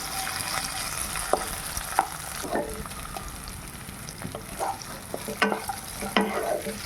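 Cooked potato, cut into small pieces, sautés in hot oil for sabudana khichdi, with steady close frying and sizzling broken by a few clacks and scrapes of a stirring spoon against the pan.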